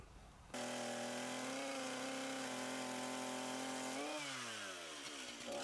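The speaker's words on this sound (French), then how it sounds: "Je vais couper ça avec la grosse scie d'un trait." A large power saw starts abruptly and roars steadily through cedar wood, its pitch dipping and wavering near the end as the cut finishes.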